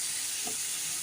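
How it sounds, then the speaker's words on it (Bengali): Carrots fry in a pan with a little salt and turmeric, giving a soft, steady sizzle and hiss for about a second, with no voices. "একটু ভাজা হোক"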